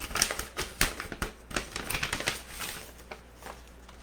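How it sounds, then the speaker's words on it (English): Paper envelope being torn and opened by hand in a home mail-order business setting, a quick series of close crisp rips and crinkles with sharp bursts, then softer rustling fading out. "I'm going to open this envelope up here."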